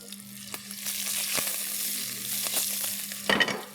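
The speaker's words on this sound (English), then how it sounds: "Allow this to splutter." Tadka spices spluttering in hot oil for yellow dal: a steady frying sizzle with sharp pops and crackles throughout, close and fairly loud, with no voices.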